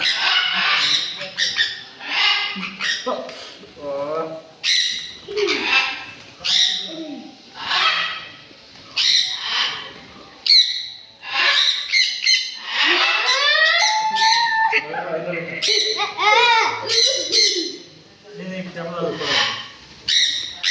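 Birds squawking at a nature retreat resort where birds perch on visitors' hands; repeated shrill calls and squawks come close and fairly loud, interleaved with people talking throughout.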